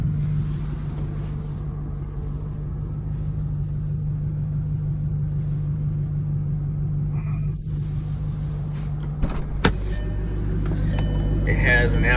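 A 2008 Audi R8 with an aftermarket Avior exhaust idles with a deep, steady, throbbing rumble, a brief blip partway through, while a person talks over it.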